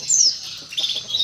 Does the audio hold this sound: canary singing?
yes